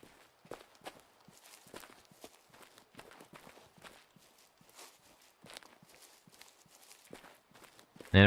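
Mountain goats spooked and running off in the hunting game Way of the Hunter, a scattered patter of hoof steps on rocky ground at middle distance, irregular and fairly faint, with no talking.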